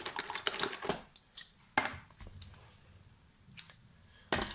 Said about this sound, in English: let's get me scissors out